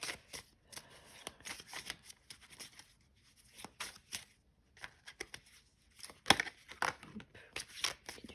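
Tarot cards being shuffled for a sentimental reading, a soft, close, continuous patter of riffles and slides with irregular rhythm and a sharper snap near the end.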